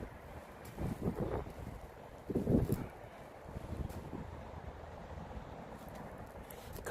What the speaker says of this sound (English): It's windy, it's cold, but it's dry.